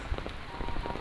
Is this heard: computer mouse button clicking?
no